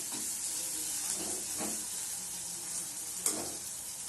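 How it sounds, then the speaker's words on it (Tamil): Slit green chilli sautéing with onions in a pan for a prawn gravy gives a steady, close sizzle with a few soft stirring scrapes and one sharp clink near the end; no voices. "அப்புறம் ஒரு பச்சை மிளகாவை கீறி அதை வந்து இதில் போட்டு நல்லா வதக்கிடணும்"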